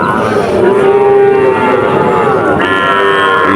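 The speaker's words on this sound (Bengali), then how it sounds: "এই যে তিনটা গরু দেখা যাচ্ছে" A loud, drawn-out moo from a nearby bull at the Chuknagar cattle market in Khulna, one sustained low call that rises and shifts near the end, over a dense background of market noise.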